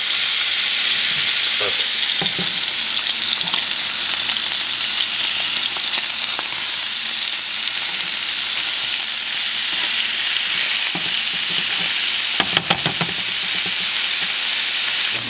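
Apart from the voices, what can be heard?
food frying and sizzling in a pan after flipping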